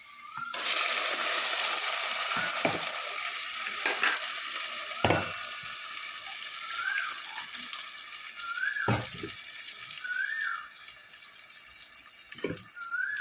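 A ground paste of roasted coconut, chilli and coriander goes into a stingray curry frying in a pan, giving a steady sizzle with intermittent scraping stirs and clinks, and no talk.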